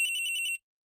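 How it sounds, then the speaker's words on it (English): A cell phone ringtone sounds inside a courtroom-mystery video game, a bright electronic trill of repeating high tones lasting about half a second before cutting off abruptly into silence. "She does not have a cool ringtone."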